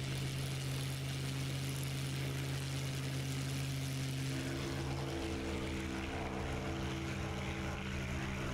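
Propeller warplane engines of a Spitfire and a Bf 109 in the DCS flight game, a loud steady droning roar with a shifting engine pitch midway through.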